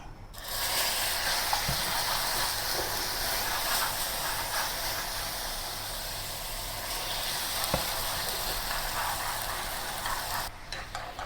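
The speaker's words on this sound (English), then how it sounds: "It will sizzle a little bit." Sugar syrup sizzles in a hot pan with a continuous bright crackling hiss, with occasional faint knocks and scrapes underneath.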